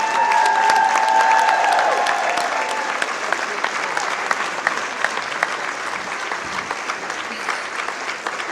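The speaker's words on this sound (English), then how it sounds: "give these men a round of applause" Audience applause with light cheering at a charity fundraiser kickoff event, a loud sustained crowd clapping that starts full with a few whoops, then settles into steadier, slightly thinner clapping.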